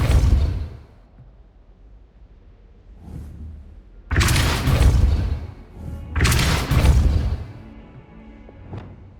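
Spell blasts from the Confringo and Depulso spells in the video game Hogwarts Legacy, two heavy booming impacts with whooshing bursts a couple of seconds apart, followed by a fading rumble and a faint sharp crack.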